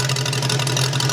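A 1920s-inspired custom motorcycle engine idles steadily at close range, a loud continuous low rumble with even pulsing and no voices over it.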